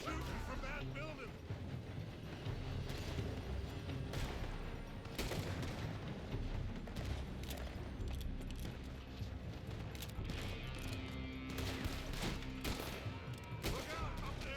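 Rifle fire cracks from a building in the open-world western game Red Dead Redemption 2, repeated sharp shots scattered throughout a busy, fairly quiet battle mix while characters talk.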